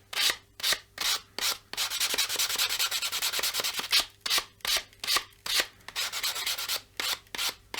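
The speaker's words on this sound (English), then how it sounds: "So yeah, I'm just gonna sand it like this" Back-and-forth sanding strokes on a wooden guitar headstock being reshaped, a steady rasping scrape that comes in rhythmic bursts with brief pauses between them, close and fairly loud with no voices.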